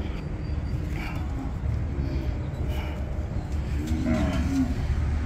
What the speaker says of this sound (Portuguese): Vacada de ponta lá, ó. Muita vaca, muito gado hoje,